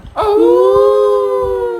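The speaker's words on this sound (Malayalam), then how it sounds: "എന്തിനാട്ടാ ഓരിയിടുന്നത്?" A dog lets out a long, loud, sustained howl that rises quickly and holds a steady wavering tone, close by and alone without talk.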